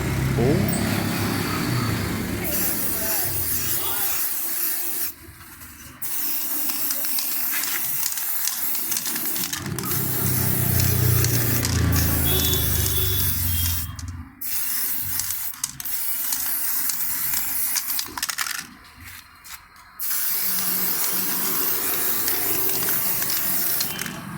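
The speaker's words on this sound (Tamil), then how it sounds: "இப்போ எப்படி ஸ்ப்ரே பெயிண்ட் அடிக்கிறேன் மட்டும் பாருங்க" An aerosol can sprays paint onto a car alloy wheel in long, loud, continuous hissing bursts broken by short pauses, with someone talking over the spraying.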